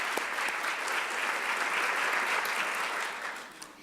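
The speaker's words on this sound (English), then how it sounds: "So let's give her a round of applause." A room full of people at a regional educators awards and scholarship program breaks into dense, even applause that holds steady, then tapers off near the end, with no talk.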